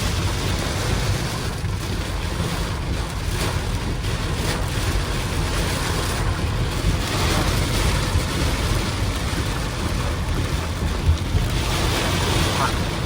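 Strong gusting wind roars and buffets around a moving Kia Syros car on a long drive, a constant heavy rushing noise with low rumbling swells.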